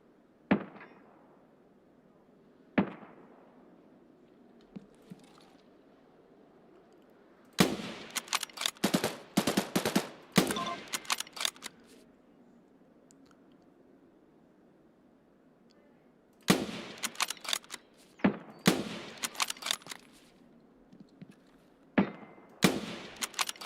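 Gunfire in the game Escape from Tarkov: isolated single shots over a quiet background, then two separate clusters of rapid automatic bursts, moderately distant and sharp.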